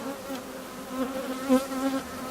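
Honeybees buzz at an open hive during an inspection, a dense, steady close-up drone with individual bees swelling louder as they pass near.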